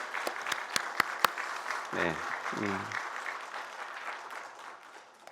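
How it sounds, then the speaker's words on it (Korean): A church congregation applauds in congratulation of an elderly mother newly baptized, a soft, distant patter under a few sharp nearby claps and a brief spoken acknowledgement. "큰 박수로 한번 축하해 주시기 바랍니다"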